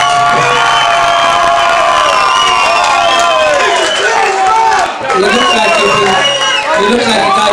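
A large crowd cheers, whoops and shouts loudly and continuously for a singer on stage, with children's voices and scattered talk mixed into the roar.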